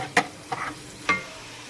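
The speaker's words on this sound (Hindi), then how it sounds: "ये साथ साथ हमारे प्याज गोल्डन हो रहे हैं" Onions frying until golden in a pan for kadhi chawal, with a faint background sizzle broken by three short stirring scrapes, no talking.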